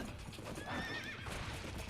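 Horse hooves clop steadily in Sengoku Basara: Samurai Heroes as a mount moves along, with a brief whinny-like tone partway through, all sitting in busy background game noise with no talk.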